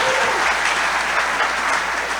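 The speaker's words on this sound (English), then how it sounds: "By show of applause." An audience at an investor summit breaks into sustained applause, a dense, even wash of clapping that holds steady throughout at a close, fairly loud level.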